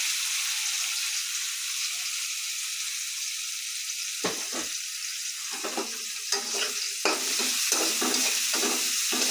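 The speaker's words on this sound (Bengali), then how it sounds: "পেঁয়াজটা লাল লাল করে ভেজে নিব" Onions sizzling in hot oil with ginger, garlic and whole spices in a pan for khichuri, a steady frying hiss broken by repeated scrapes and clinks of a spoon stirring, close and without talk.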